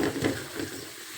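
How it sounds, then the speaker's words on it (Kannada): Onions fry in a pan as coriander powder is added for a special fish sambar, giving a brief, soft sizzle with a light stirring scrape close by. "ಈಗ ಧನಿಯಾ ಪುಡಿ ಹಾಕ್ಕೊಳ್ತಾ ಇದ್ದೀನಿ ಅಂದರೆ ಈರುಳ್ಳಿ ಫುಲ್ ಫ್ರೈ ಆಗಿದೆ"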